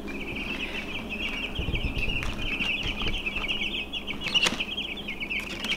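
Two-week-old meat chicken chicks crowded in a box keep up a continuous, close chorus of shrill overlapping peeps, with soft rustling and a few bumps underneath.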